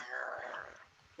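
A blind dog gives a quiet, brief whimper up close, a thin whine that fades out before a short bump of noise at the end.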